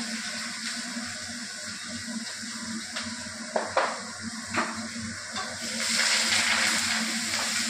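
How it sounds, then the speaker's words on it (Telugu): Dried red chillies, green chillies, curry leaves and coriander frying in hot oil: a steady sizzle with occasional stirring clatters of a utensil against the pan, the hiss swelling louder near the end. "ఎండుమిర్చి, పచ్చిమిర్చి, కరివేపాకు, కొత్తిమీర పైన వేస్తున్నాం"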